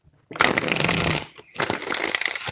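Tarot cards being shuffled by hand, two close riffling bursts with a brief pause between, crisp and dense papery rattling.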